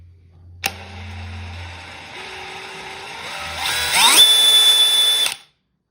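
DEWALT 20V MAX cordless hammer drill running at variable speed, its close motor whine rising in pitch in steps as the trigger is squeezed harder, then stopping abruptly after about five seconds, with no talk.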